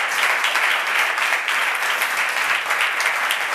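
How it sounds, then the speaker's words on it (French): Steady audience applause at an ethics awards ceremony for a young telecom operator winning the ethical governance prize, dense even clapping filling the room at constant loudness throughout. "Télécope, que vous pouvez applaudir."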